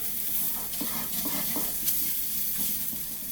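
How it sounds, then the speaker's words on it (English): Garlic and shallot sautéing in a pan in a resort kitchen for chicken angel hair pasta, a steady close sizzle with soft rhythmic stirring scrapes and no talking. "So then you want to add in your garlic and your shallot. Start letting that get nice and sauteed."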